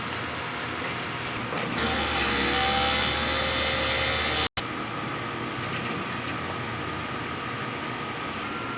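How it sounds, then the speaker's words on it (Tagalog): Continuous mechanical whirring and humming of a DTF printer running a print head cleaning cycle, close and steady with a brief dropout midway. "Next po, head clean. Press lang natin yung clean."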